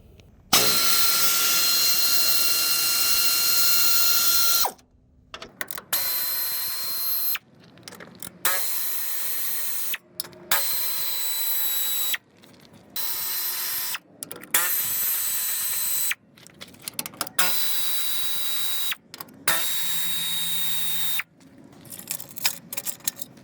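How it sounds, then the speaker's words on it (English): A power driver with a Torx T40 bit spins out the step bolts on a Freightliner Cascadia truck, a loud whirring in repeated bursts with short pauses between, close by. "to remove the 8 bolts, you gotta use a Torx 40"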